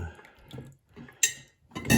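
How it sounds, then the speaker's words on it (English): A ball of fresh mozzarella, made from curds on a farm, drops into a bowl of cold water with a short splash, followed by a second louder splash moments later, close up with no talk. "So I've been tossing the balls into this cold water"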